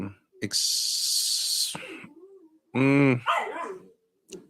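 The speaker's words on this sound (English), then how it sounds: "barking dog" A dog barks nearby a few times between hissy bursts of noise, with a short whimpering yelp, loud and close.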